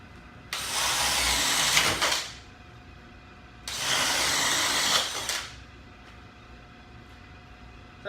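A Dewalt DCD791 compact drill driver bores two holes in two bursts of about a second and a half each, loud and close, with a quiet pause between.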